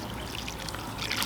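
Water pours and trickles into soil while planting in a garden, a brief close splashing flow that builds slightly toward the end.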